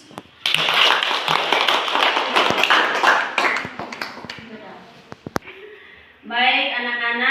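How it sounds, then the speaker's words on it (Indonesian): A classroom of students claps for a group's presentation in a burst of scattered hand claps that thins into a few isolated claps, followed by a voice speaking near the end. "mari kita berikan aplaus kepada kelompok 1 yang sudah mempresentasikan hasil diskusi mereka"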